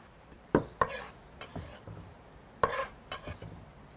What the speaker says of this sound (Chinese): 再给你切点泡菜